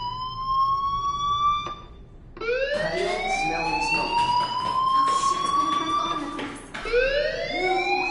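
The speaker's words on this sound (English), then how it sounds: "do you hear that fire alarm?" A loud electronic fire alarm in a video game wails with rising, sweeping siren tones that repeat in long cycles, breaking off briefly before starting again, with no speech.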